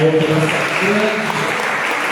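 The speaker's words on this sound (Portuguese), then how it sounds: "Vamos aplaudir o Senhor" Steady applause from a church congregation fills the space during a worship service, with a voice carrying over the clapping near the start.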